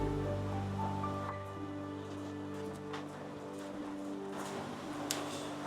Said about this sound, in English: it's raining really hard outside.